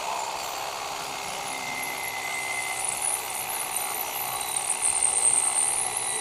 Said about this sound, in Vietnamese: em sẽ khoan thêm một mũi nữa cho anh em mình coi được cái hiệu năng của con máy luôn